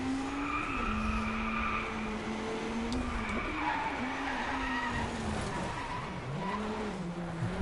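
A car drifting in the Drive Club racing game, its tires squealing in a long, steady skid with wavering pitch over a constant engine drone, loud and continuous throughout with no talking.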